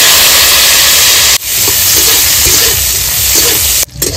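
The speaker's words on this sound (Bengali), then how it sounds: "এবার আমি ভেজে নেবো যে আগে থেকে ভিজিয়ে রেখেছিলাম কাজু কিশমিশ" Cashews and raisins frying in hot oil in a kadai, a loud, steady broadband sizzle and hiss that runs throughout with only a brief dip partway.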